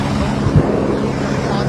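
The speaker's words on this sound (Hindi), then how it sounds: "हेलीकॉप्टर आ चुका है।" A rescue helicopter arriving in the Kedar valley during disaster relief, heard as a steady low rotor drone with a brief swell in the middle, under nearby talking.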